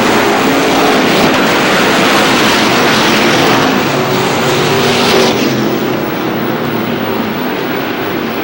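Race cars roaring around the oval at Star Speedway in New Hampshire, a loud continuous engine drone that swells and fades slightly as the field passes, with no voices over it.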